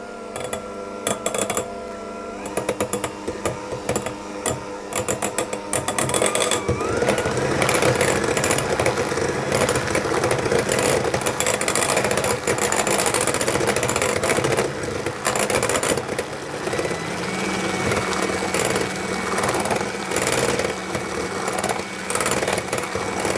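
Orange and almond cake batter being mixed, probably with an electric mixer, giving a steady loud mechanical whirr that runs for about twenty seconds without pause, with no talking.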